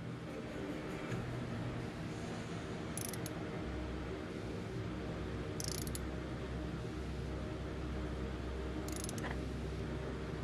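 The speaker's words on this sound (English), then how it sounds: "I've got my torque wrench set for 20 foot-pounds. We'll just torque this down." A torque wrench snugs spark plugs to 20 foot-pounds on the 5.7L HEMI of a 2017 Dodge Charger R/T, giving faint mechanical ratcheting and a few sharp clicks over a steady low hum, with no talking.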